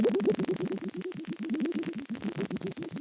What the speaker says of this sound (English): This is one of our horseshoe bats.